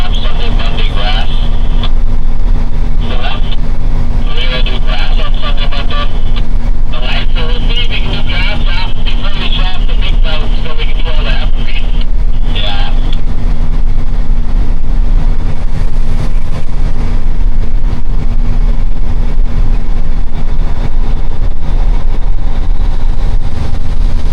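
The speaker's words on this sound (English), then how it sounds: "She is not spitting and sputtering. She is running good. This is the first cruise with this engine running." A Peterbilt truck with a freshly rebuilt engine runs steadily on its first drive hauling corn, a constant loud low drone and hum throughout while someone talks over it for much of the time.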